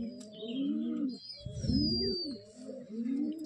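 A pair of Giribaz pigeons cooing close by in repeated throaty rolling coos, with a faint high tone in the background.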